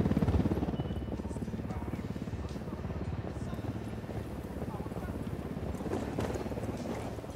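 A helicopter hovers in Ghost Recon Wildlands, its fast rotor chop a steady rhythmic thumping throughout, moderately near, with voices faintly in the background.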